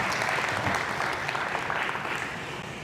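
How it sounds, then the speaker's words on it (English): Sustained audience applause fills a charity gala hall for a founding board member, dense and steady clapping from start to finish that fades slightly toward the end. "he's worth a clap."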